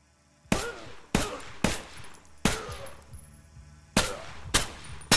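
A pistol fired in the VR game Stride, seven sharp, loud shots spaced irregularly, each with a short metallic ring and decay between them.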